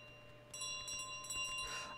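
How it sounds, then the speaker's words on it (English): Bicycle bell rung in Untitled Goose Game, a few bright metallic rings starting midway and repeating over a steady low game hum, close and moderately loud. "the bike has a bell"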